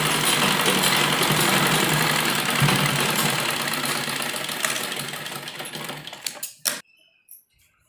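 A sewing machine stitches a heavy-size printed kurti through the folded side margins, running steadily and fast with a dense mechanical whir and patter, then slowing and stopping with a few final clicks.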